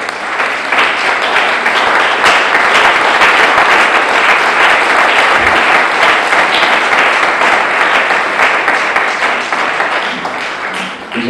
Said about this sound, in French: On va les acclamer très fort.